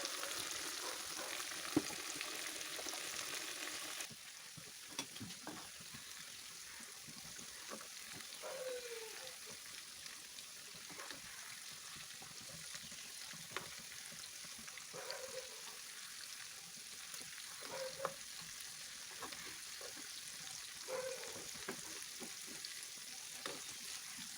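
Half-fried chicken simmers and fries in curry gravy with a faint, continuous hiss, dotted with soft pops and occasional light stirring taps.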